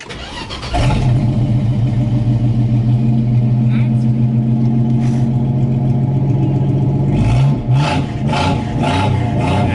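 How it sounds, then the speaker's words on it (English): Station wagon engine with the exhaust cut off, starting up and running loud and raw with a rumbling idle before a few sharp revs near the end, close by, with voices over it. "I cut the exhaust off, so we're gonna go for a little rip around the neighborhood"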